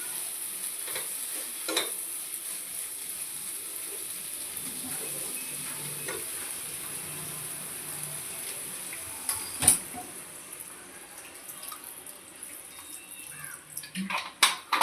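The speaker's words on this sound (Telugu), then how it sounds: "అన్నీ ఒకసారి తిప్పుకున్నాక వాటర్ పోసేసుకుంటున్నాను." Water poured from a large glass into a sizzling curry pan, with a steady fry hiss, a sharp splash midway and gurgling bursts toward the end, close by with no talk.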